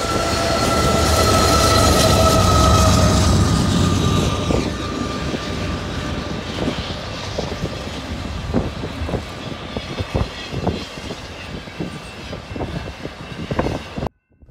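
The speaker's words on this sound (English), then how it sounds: "we would find UP 6399 and UP 7016 as they scream to keep this train up to speed" A BNSF train runs through a blizzard with mid-train Union Pacific locomotives UP 6399 and UP 7016 working hard. A loud, roaring engine drone fades into a steady rumble with rhythmic wheel clacks, then cuts off abruptly near the end. No one speaks.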